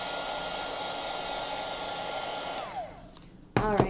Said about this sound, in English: We're gonna dry it so it doesn't smear